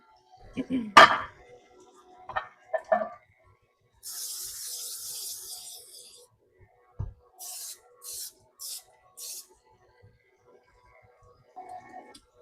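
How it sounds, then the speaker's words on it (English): Several short hissing bursts from a cooking spray can onto a 9.5 by 13 baking pan, one longer spray followed by a rhythmic series of quick spurts, with a few soft clinks and knocks around them. "I'm going to spray my pan"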